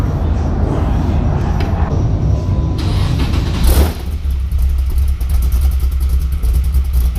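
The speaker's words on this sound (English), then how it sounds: "it sounds like a typical cammed engine" A cammed car engine cranks and catches, then settles into a loud, lumpy, uneven idle with a choppy rhythm, close by.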